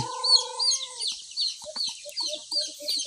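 Backyard chickens on a rural farm cluck in short repeated bursts, with a drawn-out call at the start and a steady bed of insect or background hiss.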